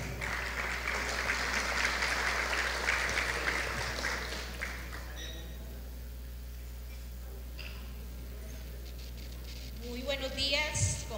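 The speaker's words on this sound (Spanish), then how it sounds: "Un fuerte aplauso para ella." Applause from a congress audience in Costa Rica welcoming the association president, a dense crowd clapping that stays strong for several seconds, then thins out before a voice begins speaking near the end.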